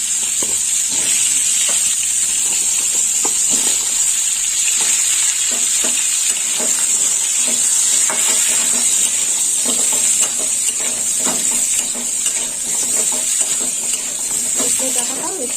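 Drumstick (sajne) stems sizzle steadily in hot oil in a pan after tempering, with an intermittent scrape and clink of stirring running through the continuous loud frying hiss.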